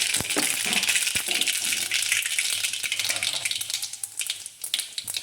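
Mustard seeds and cumin hit hot oil as a tempering for spinach, giving a loud crackling sizzle with sharp popping spatters that gradually settles toward a softer fry.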